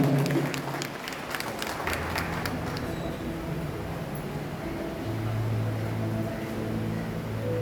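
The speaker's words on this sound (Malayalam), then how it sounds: "നിറഞ്ഞ കൈയടികളോടെ നമുക്ക് ഈ സമയം സ്വീകരിക്കാം" Applause from a church congregation welcoming newly sworn-in trustees at St. Thomas Cathedral, Irinjalakuda, a steady wash of many hands clapping that holds for several seconds, with faint talk and crowd murmur underneath.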